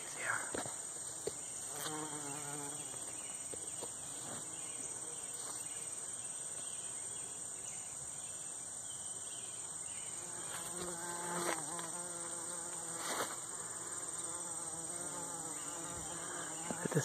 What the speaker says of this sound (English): There's a couple of bees here.